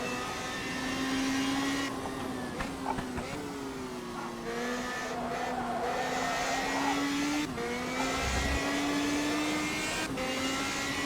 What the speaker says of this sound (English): people have complained about the sound on this car and on the new one, saying it sounds a bit like a lawnmower